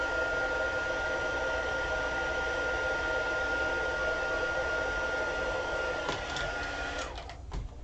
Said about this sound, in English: I'm going to hit this with my heat tool and make sure that ink is nice and dry